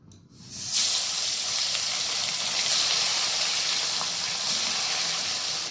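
Marinated fish dropped into hot mustard oil in a wok, bursting into a loud, steady sizzle after a brief quiet start and holding a continuous hiss close by.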